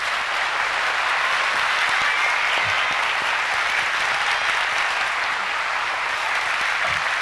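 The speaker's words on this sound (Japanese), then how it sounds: "皆さんもう一度大きい拍手をお願いします" Sustained applause from the audience at the closing performance of the musical Transilvania no Mori, a dense, steady wash of many hands clapping that holds at an even, full level throughout with no voices over it.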